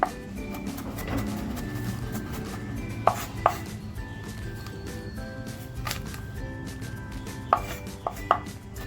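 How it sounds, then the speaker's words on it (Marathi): Garlic being finely chopped with a knife on a board, a steady run of soft close taps with several sharper louder knocks, no voices. "लसूण अगोदर आहे ना आपण कापून म्हणजे बारीक करून घ्यायचे"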